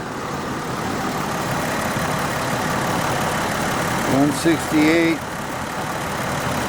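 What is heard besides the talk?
Jaguar X-Type car engine idling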